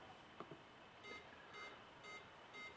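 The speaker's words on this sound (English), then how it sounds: "And it beeps a bit." A Yuneec Typhoon G drone controller beeps four times in an even rhythm during accelerometer calibration, short high-pitched tones, quiet and close with a faint background hum.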